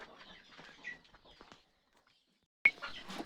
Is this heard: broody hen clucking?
yes